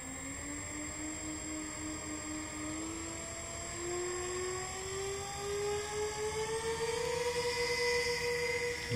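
Electric motors of an X Vert clone RC VTOL aircraft spool up, a rising whine that climbs steadily in pitch and loudness over several seconds, nearby with no talk.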